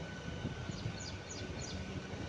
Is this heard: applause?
no